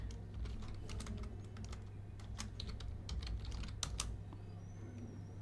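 Rapid clicking keystrokes on a computer keyboard, steady and close, with irregular bursts of taps over a low constant hum.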